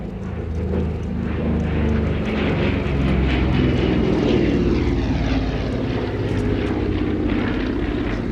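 A 1944 Douglas A-26 Invader warbird's twin piston engines and propellers roaring steadily overhead during an air display at Little Gransden, loud and continuous throughout with a slowly shifting drone.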